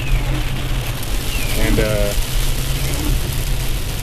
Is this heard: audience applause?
no